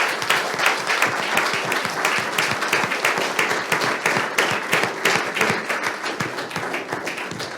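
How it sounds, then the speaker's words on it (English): Audience applause at an afternoon talk with traditional Pacific navigators: dense, steady clapping from a sizeable crowd that stays loud and even throughout, with no speech over it. "Please give a round of applause to Mari and Lolo."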